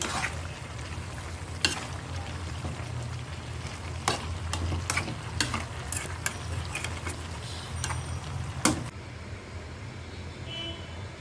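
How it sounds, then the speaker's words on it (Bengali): Onions and two or three tomatoes sizzle steadily in a pan, with sharp clinks and scrapes of stirring scattered throughout, close and moderately loud before the sizzle softens near the end. "নাড়াচাড়া দিয়ে দিই"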